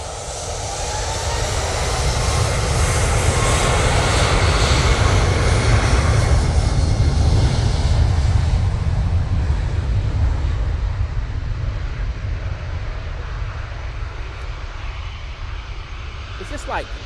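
A Norwegian airliner roars on the runway at Manchester Airport, a loud, broad engine rumble that swells over the first few seconds, holds steady, then slowly fades, with wind buffeting the microphone throughout.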